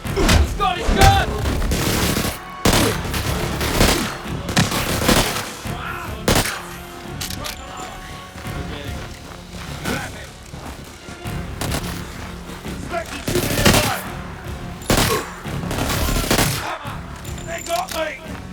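Gunfire in the video game 007 First Light, repeated loud shots and bursts with booming impacts in irregular clusters, mixed with game characters shouting over the action.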